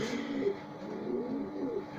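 Pigeons coo softly and repeatedly in a loft, low rolling calls close by over a faint steady background hum.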